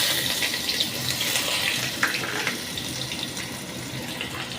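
Onion slices hit hot oil just after nigella seeds were tempered for a Bengali parshe fish with coriander leaves, giving a steady, close, broadband sizzle with small crackles throughout.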